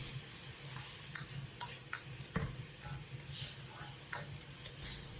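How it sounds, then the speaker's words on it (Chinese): Diced tomatoes stir-fried in a wok with dried shrimp, scallions and garlic for a dough-drop noodle soup give a soft, steady sizzle, with light scraping taps of a spatula against the pan. "将西红柿炒出汤汁"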